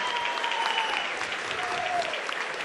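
A crowd at a Muay Thai fight night applauds a grand reception, a sustained, fairly loud ovation with a faint tonal sound running underneath and no voice over it.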